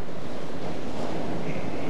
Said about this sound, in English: The waves are getting bigger and bigger as we speak.